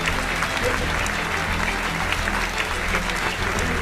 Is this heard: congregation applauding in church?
yes